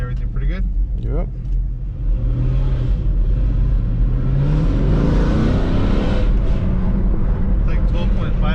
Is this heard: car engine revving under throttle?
yes